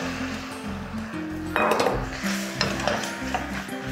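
Scrambled eggs with salt and milk are stirred in a pan, the utensil scraping and clinking against the metal up close in quick irregular strokes, with soft music playing underneath.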